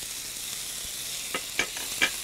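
Onions, tomatoes and garlic sautéing in a pan make a soft, close sizzle, broken by a few brief clinks and scrapes of stirring near the end.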